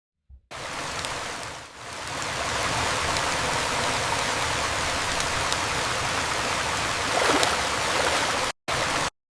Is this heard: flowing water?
yes